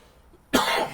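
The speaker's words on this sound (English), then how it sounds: "Sorry, I still have a bit of a cough." A single short, harsh cough bursts out after near silence, close to the listener, during play of Mass Effect: Andromeda.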